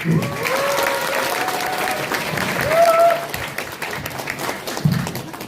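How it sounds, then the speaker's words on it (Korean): A crowd applauds steadily for the candidates at a packed campaign office opening in Bundang-Pangyo, with a few voices calling out over the clapping for several seconds. "김지호 후보하고 추승호 공라노 후보한테 다시 한번 큰 박수를 부탁드립니다."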